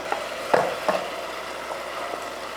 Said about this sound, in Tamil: இப்போ இதை நம்ம வந்து காயில் சேர்த்துடலாம்.